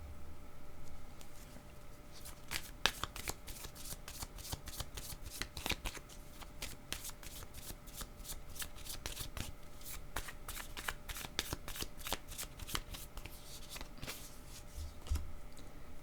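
Tarot cards being shuffled by hand, a steady run of crisp riffling snaps and soft slides repeating closely for the whole stretch, near and fairly quiet, with no voices.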